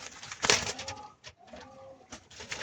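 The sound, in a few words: homing and French meat pigeons cooing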